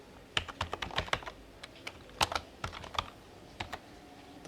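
Rapid, irregular keystrokes on a computer keyboard while writing SQL queries, close and fairly quiet, with bursts of clicks separated by short pauses and no talking.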